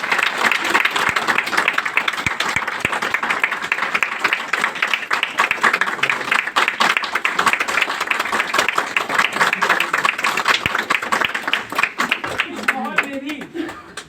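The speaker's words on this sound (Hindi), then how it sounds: "इसलिए आप अपने लिए एक जबरदस्त ताली बजाएं।" An audience at a company gathering claps steadily and loudly for about fourteen seconds, dense applause that thins and fades toward the end.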